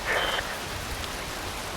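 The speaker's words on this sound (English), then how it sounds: "Wind blows. Rain falls." Steady rain in the video game Metal Gear Rising Revengeance, a constant soft hiss of falling drops with a brief brighter tone near the start, even and unbroken without any talk.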